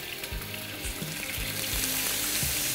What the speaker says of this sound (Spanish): Tenemos una sartén con las cucharaditas de aceite al fuego, que esté bien caliente. Y colocamos los langostinos.